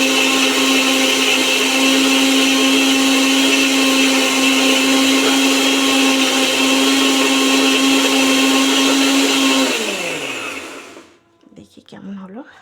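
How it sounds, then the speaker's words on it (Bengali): An electric kitchen mixer grinder blends ginger and garlic into paste, a loud, steady high-pitched motor whine close by that runs unbroken for about ten seconds, then winds down as it is switched off, leaving faint handling noise. "মিক্সিতে এবার আদা রসুন পেস্টটা করে নেবো।"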